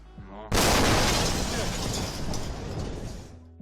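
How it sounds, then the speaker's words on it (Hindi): A sudden loud blast from the 2013 Chelyabinsk meteor's explosion and sonic boom, caught on a car dashcam in Russia, bursts in after a quiet start and rolls on as a long, rumbling roar that slowly fades. "रशिया में डैश कैम के साथ ड्राइविंग करने वालों ने इस मेट्योर को गिरते हुए कैप्चर किया था, जिससे दुनिया को इसके विस्फोट की आवाज सुनाई दी"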